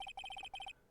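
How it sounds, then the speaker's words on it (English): Phone ringtone from the Phoenix Wright: Ace Attorney video game, rapid electronic trilling beeps in three quick bursts, faint and brief. "I heard a phone ring just now."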